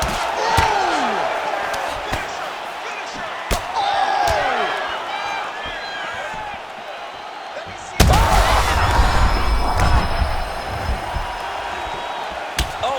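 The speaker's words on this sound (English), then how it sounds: "Oh, massive knee to the head." Strikes land in a women's fight in EA Sports UFC 5, with heavy thuds and slaps punctuating crowd noise and commentary, including a sharp knee impact midway.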